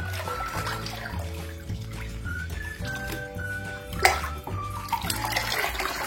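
Grape fertilizer stirred into 25 liters of water in a tub, a continuous close sloshing and swirling of water with one brief louder splash.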